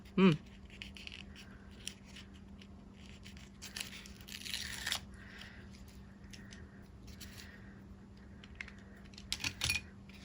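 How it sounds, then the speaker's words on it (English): Backing is peeled off adhesive tape while assembling a hand-penned petals loaded envelope, heard as brief close ripping and crackling bursts at the start, mid-clip and near the end over a low steady hum. "pull our tape off the back, the backing off the tape"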